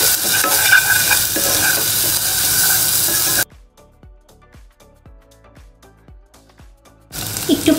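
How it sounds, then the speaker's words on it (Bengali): Spices with salt, chili powder and turmeric sautéed for potol dorma: loud sizzling and stirring, then a stretch of sharp rhythmic clicking scrapes, before the sizzle returns. "এবার ভালোভাবে কষিয়ে নেব।"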